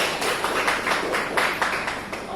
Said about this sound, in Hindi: तो जोरदार तालियां बजाइए अपने लिए।